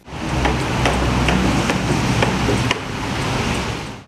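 Hammering and renovation work on a building in Chernihiv, Ukraine, repairing fire-damaged balconies: a series of sharp, irregular knocks over a loud, noisy outdoor background, with no talk.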